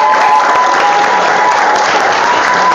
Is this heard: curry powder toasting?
no